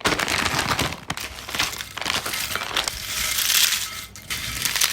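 A bag of Lays spicy chicken flavour potato chips crushed by hand, dense crunching and crinkling running steadily for several seconds with brief pauses, close and loud.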